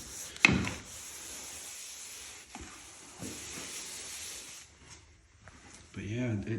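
A grout wash sponge wiped over freshly grouted tiles, soft scrubbing swishes in several passes after a sharp knock at the start, with a person talking at the end.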